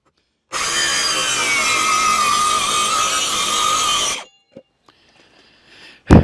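A power saw cuts through wood panels for a Murphy bed frame in one loud, steady pass lasting about four seconds, then stops, followed by a few faint knocks and a sharp thump.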